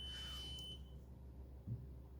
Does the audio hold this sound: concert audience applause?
no